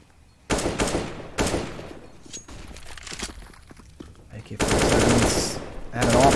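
Bursts of AK-47, AWP and pistol fire in a Counter-Strike match on the Inferno map, loud rapid volleys separated by quieter gaps with footsteps, one shot standing apart, no talking.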